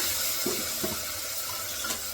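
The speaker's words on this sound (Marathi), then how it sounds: "तेलाची वाटी आहे त्यातच पाणी घालते थोडंसं" Water pours in a steady hissing stream into a small bowl that held oil, with a few soft knocks of something being moved.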